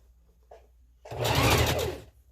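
A sewing machine runs a zigzag stitch attaching a hair weft to a wig closure, a quiet tap first, then one steady whirring burst of about a second alone.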